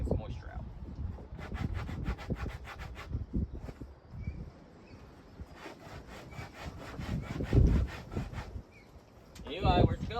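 Egg-tanned red fox hide is rubbed by hand to soften and abrade it, giving rhythmic dry scraping strokes in bursts of rapid friction. Pauses fall between the runs, and a voice is briefly heard near the end.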